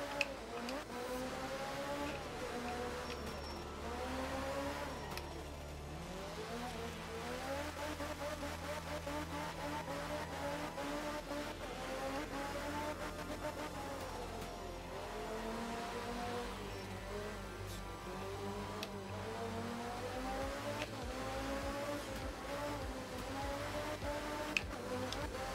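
A Group S rally car engine, a breed faster than Group B, drones steadily and loudly with rising and falling revs and harmonic shifts through gear changes, continuous throughout with a faint ticking.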